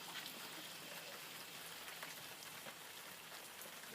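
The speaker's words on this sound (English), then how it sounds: "Lindsay, Wyatt, come on in out of the rain." Rain falls steadily on a surface, a faint, even patter of drops with no talking and no other distinct sounds.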